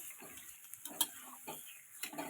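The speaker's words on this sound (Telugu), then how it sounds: "ఆ వేగిన మిశ్రమంలో ఈ యొక్క చేప ముక్కల్ని వేసి ఒకసారి కలపెట్టుకుంటున్నాను" Fish pieces are stirred into a fried spice mixture in a pan, with soft sizzling under repeated scrapes and clinks of a spoon against the pan, fairly faint and close.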